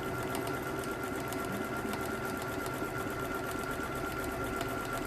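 A sewing machine stitches a buttonhole for shank buttons, a fast, even, close mechanical whirring and ticking that runs without pause.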